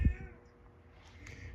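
A cat gives one short, close meow at the start of a quiet moment in a workshop where a 1976 Gottlieb Surfer pinball machine is being repaired, followed by faint low hum.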